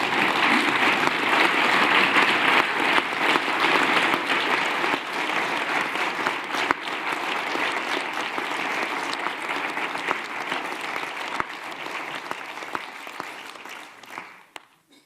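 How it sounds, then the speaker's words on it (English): Sustained applause from delegates at an EU Council winter meeting after a German foreign minister's speech, full and even for several seconds before tapering off at the end. "the applause that you received at the end"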